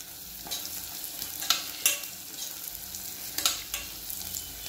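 A spoon scrapes and stirs cumin, black pepper and coriander powder in a pan with a faint sizzle, marked by a few sharp clinks of the spoon against the pan.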